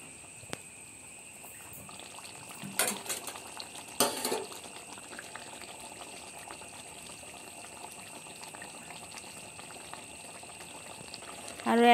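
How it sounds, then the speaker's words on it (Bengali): Katla fish kalia curry simmering after ghee and garam masala go in, a quiet bubbling boil with a steady tonal hum, two short bursts of clatter early on and a louder knock at the end. "আরও 1 মিনিট ফুটিয়ে নিয়ে নামিয়ে নেব।"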